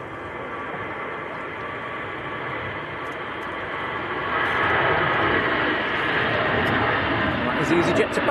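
An EasyJet airliner bound for Paris roars with jet-engine noise at Manchester Airport on a windy day, the broad rumble growing louder midway, as a voice talks over it.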